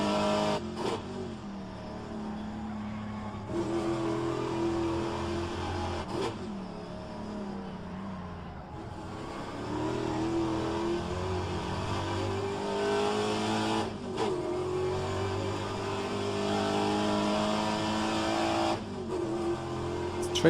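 A Pontiac race car circling Road Atlanta, its engine roaring and revving hard with sharp drops where gears shift, rising again after each change, loud and close throughout with a hint of tire squeal.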